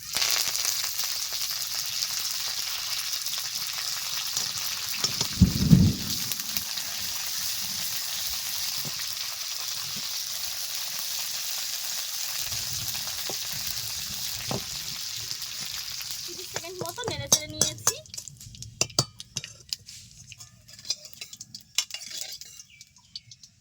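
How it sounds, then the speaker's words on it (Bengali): Black mustard seeds, chopped dried chillies and curry leaves sizzle steadily in hot oil, a loud sputtering burst early on, then crackling and popping grows more irregular toward the end with a few scraping clinks. "তেলটা গরম হয়ে গেছে দিয়ে দিচ্ছি কালো সরিষা আর দুটো শুকনো লঙ্কা ছোট ছোট করে কেটে নিয়েছি আর এখন দিয়ে দিচ্ছি কারি পাতা"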